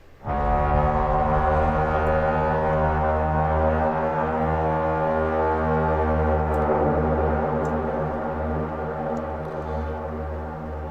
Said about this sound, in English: What does my horn sound like? It sounds like this.